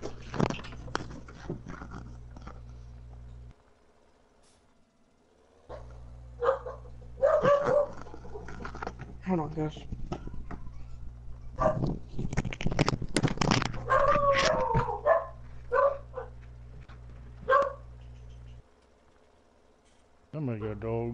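A dog barks and whimpers in bursts near a live-streamer who talks over a steady game hum, with yips and short howl-like cries scattered through the stretch.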